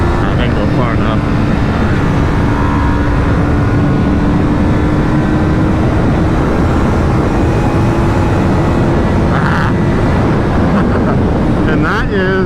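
2025 Yamaha R3 motorcycle engine held high near redline, a loud, steady, droning whine sustained for over ten seconds with wind roar, a rider talking over it.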